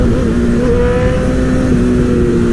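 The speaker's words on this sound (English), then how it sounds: "I love the sound of this fucking bike" Motorcycle engine revving loudly up close, a steady droning roar with a rising and falling tone and no pauses.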